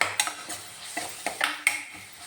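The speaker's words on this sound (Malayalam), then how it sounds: "നമുക്കിത് നല്ലപോലെ ഒന്ന് വഴറ്റിയെടുക്കണം" Shallots, green chilies and curry leaves sautéing in a pan for chicken curry, a few quick scraping stirs of a spoon against the pan over a light sizzle, close and fairly quiet.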